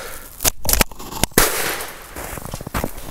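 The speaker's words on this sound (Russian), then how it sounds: "Ну давайте, второй выстрел." A loud shotgun blast firing a magnum shell from a 70 mm chamber cracks out with a sharp echo, followed by a few more quick bangs and clatter outdoors.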